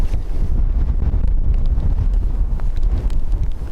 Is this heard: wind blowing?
yes